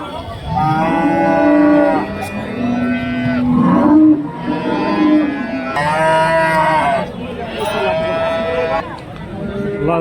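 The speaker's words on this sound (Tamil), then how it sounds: "நிறைய ஜெர்சி மாடு தான் தெரியுது" Jersey cows at a busy cattle market in Karimangalam, Dharmapuri, give several long, loud, close moos one after another, while people talk underneath.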